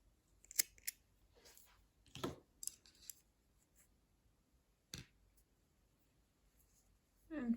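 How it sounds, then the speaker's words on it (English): Scissors snip knitting yarn during a shale scarf tutorial, a few quiet, separate crisp cuts and clicks spaced across a near-silent room. "Cut the yarn."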